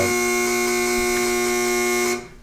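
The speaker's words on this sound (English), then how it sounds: "That buzzer indicates the end of our first half" A single loud, sustained electronic buzzer ending the first half of a school quiz competition drones steadily for about two seconds, then cuts off abruptly.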